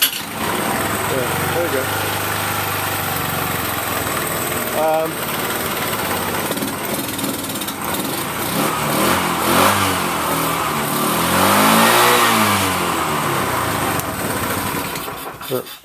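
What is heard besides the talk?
Bajaj Chetak scooter engine starting and running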